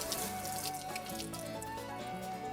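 Water rinses off a freshly shampooed car whose paint was treated with GS27 Titanium scratch remover, sheeting off the panels in a steady, close splashing stream with no talking.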